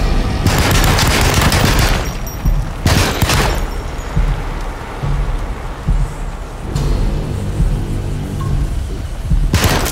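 Gunfire in the 2024 Alone in the Dark video game. Several loud, close bursts of shots with quieter rumbling stretches between them and no talking.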